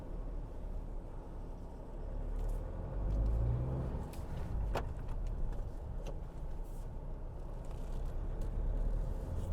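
A 2024 Tata Safari Adventure+ Dark Edition with a manual gearbox pulls away, a steady low engine and road rumble heard from inside the cabin, swelling briefly as it gets moving.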